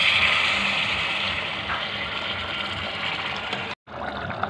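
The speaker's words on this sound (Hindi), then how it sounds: "ये गर्म पानी हम लोग सब्जी में डालेंगे।" Hot water is poured into a potato and pointed gourd (parwal) curry. The steady rushing pour lasts nearly four seconds, stops abruptly, then a soft simmer resumes.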